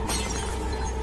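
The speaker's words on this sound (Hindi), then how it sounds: "नमन के हाथ से ग्लास छूटकर सिंक में गिर गया" A glass slips from a hand and shatters in a sink: a loud, close, continuous crash of breaking glass lasting about a second, heard alone.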